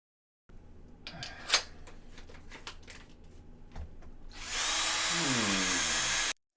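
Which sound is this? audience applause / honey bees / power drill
power drill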